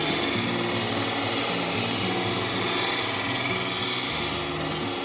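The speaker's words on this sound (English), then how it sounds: "take this tool and I use it as a negative rake scraper" A wood lathe spins a small wooden snowman while a negative rake scraper is laid flat against it, producing a continuous loud whirring hiss with a low motor hum and no pauses.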